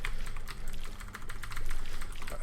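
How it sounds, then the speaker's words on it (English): Computer keyboard keys are pressed rapidly and repeatedly during a Binding of Isaac game, a dense, quick clatter of close clicks running on with no talk over it. "I am having to spam the shit out of the keyboard"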